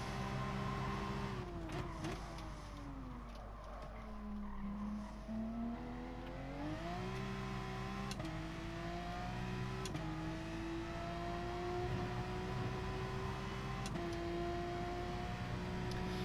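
Porsche 911 RSR 991 race car engine in Gran Turismo Sport at Suzuka, revving steadily in fourth gear down the straight, a continuous loud engine whine rising in pitch with brief gear-related dips, no talk.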